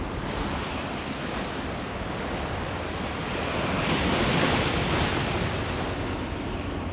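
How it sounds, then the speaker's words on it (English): Ocean waves and rising wind at sea during a gathering storm, with a loud continuous roar of surf and gusts that swells in the middle before easing slightly, no voices. "winds and the sea rise"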